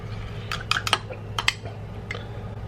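A spoon gently stirring a yeast starter of sugary wort for a smoked blonde ale, giving a few light metallic clinks and taps against the container over a steady low hum, close up and without talk.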